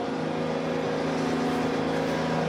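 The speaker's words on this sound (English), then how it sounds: "Give her a little throttle." A big farm planter's engine, parked in a shed since planting season, revs under added throttle as a loud, steady droning hum with rising harmonic tones, continuous and close, with no talking.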